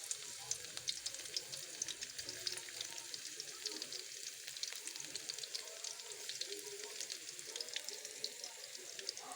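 Garlic frying in hot oil for squid adobo gives a quiet, steady crackling sizzle throughout, with no talk.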